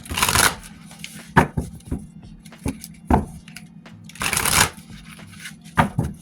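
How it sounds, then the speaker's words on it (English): A deck of tarot-style cards is shuffled by hand, crisp riffling bursts followed by scattered taps and flicks, close and fairly loud, with quiet pauses between shuffles. "One more shuffle"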